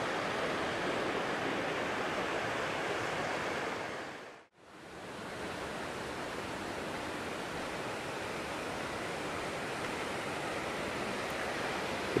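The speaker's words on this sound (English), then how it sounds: "there's still a lot of water coming down Mormon Ravine" Water rushes steadily down Mormon Ravine near Folsom Lake as a loud, continuous broadband roar, briefly cut to silence midway before resuming unchanged.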